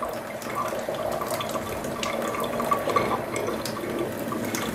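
Water runs from a newly refitted low-pressure kitchen faucet, a steady splashing rush into the sink with small sputters and gurgles from air in the line, continuous and close.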